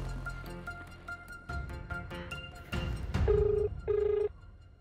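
An outgoing phone call rings unanswered: soft tones and clicks, then two loud, evenly spaced ringback bursts close to the earpiece, with no voice answering.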